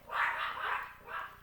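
Dogs barking, three drawn-out barks in a row at moderate distance, fairly faint, with no one talking.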